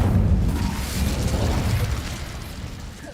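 A fiery burst from the Incendio fire spell cast in the Hogwarts Legacy video game: a loud, close whooshing blast at the start that slowly fades over about three seconds.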